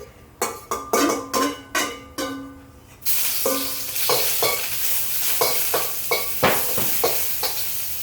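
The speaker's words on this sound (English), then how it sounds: "So now I'm going to reignite, and I'm going to put in my garlic and ginger." Metal clanks and scrapes in a wok at first, then garlic and ginger drop into hot oil and break into a loud, steady sizzle, with stirring scrapes and knocks repeating over the frying.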